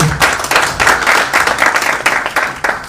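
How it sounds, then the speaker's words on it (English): An audience at a plenary meeting gives a round of applause in loud, pulsing waves of clapping from many hands, heard close with no talk over it. "let's give a good round of applause to Ndindi"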